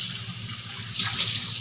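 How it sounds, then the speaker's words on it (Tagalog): Tap water runs into a small pan in a kitchen with a steady, splashy hiss, close and continuous for under two seconds. "Lagyan na natin ng tubig."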